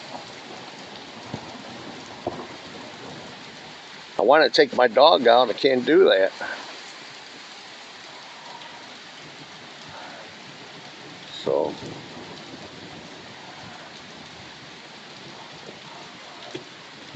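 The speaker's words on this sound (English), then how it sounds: "Rain, rain." Steady rain falls outdoors on a rainy day in northern Illinois, a continuous hiss with scattered drops, while someone talks briefly over it and a short louder burst cuts in partway.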